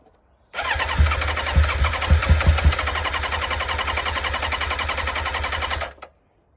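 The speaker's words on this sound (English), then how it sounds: "She fired for a split second." Sports motorcycle bought at auction coughs and fires for a split second while being cranked, a loud close burst of several sharp engine pulses over a steady starter whir, then stopping.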